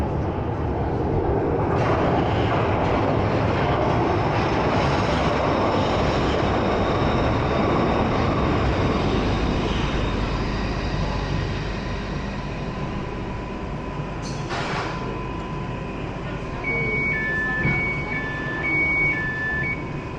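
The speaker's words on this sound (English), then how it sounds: "I thought we'd better add a bit of the Glasgow subway in" A Glasgow subway train in a video game runs with a steady, loud rolling rumble and rail noise throughout, and a few short chime-like tones sound near the end.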